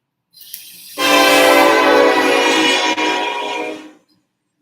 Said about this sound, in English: why is it always when I'm talking that the train comes through?